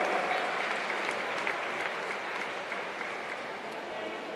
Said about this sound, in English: A big round of applause for her, the New Zealand champion, 400 metres freestyle and New Zealand record holder.